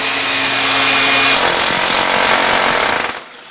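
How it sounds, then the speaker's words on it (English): A drill bores weep holes into a concrete block basement wall, grinding loud and steady, the pitch climbing partway through before the motor cuts off and winds down near the end. "When you're drilling, you might hit a solid area."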